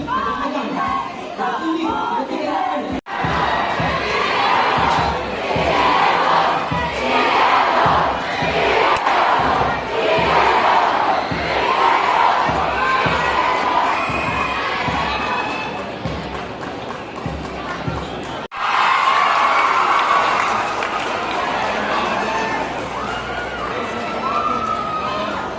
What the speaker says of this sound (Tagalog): ganyan din katindi ang hiyawan at suporta ng kanilang mga kapwa estudyante.